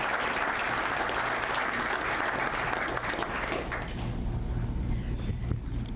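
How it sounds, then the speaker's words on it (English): Audience applause at the public opening of a sheriff's department unit in Suffolk County, after a call to honor a justice: a dense, steady wash of clapping from a large crowd throughout, with no speech. "Please, a round of applause for Justice Carey."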